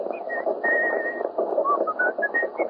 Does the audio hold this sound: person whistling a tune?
yes